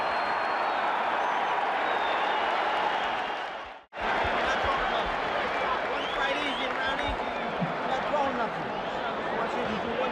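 A packed arena crowd at the Mike Tyson versus Larry Holmes boxing fight roars continuously between rounds, a thick, loud wall of noise with a momentary dropout partway through and voices mixed in.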